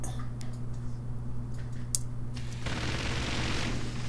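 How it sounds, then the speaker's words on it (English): Armor-shredding Gatling gun from the game Forts opens up partway through, a dense rapid burst of shots over a steady low hum that continues to the end. "let's try the armor-shredding Gatling gun on it"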